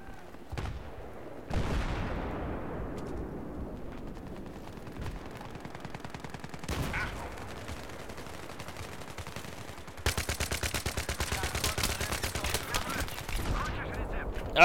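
Gunfire in Battlefield 4 comes in sharp single shots and bursts, then turns into a dense, fast automatic stream near the end. Booming reports ring out over a steady background, and players talk now and then.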